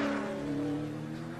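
A NASCAR Nationwide race car on a qualifying lap holds a steady, loud, high-pitched engine drone with a clear harmonic whine, nearby and alone.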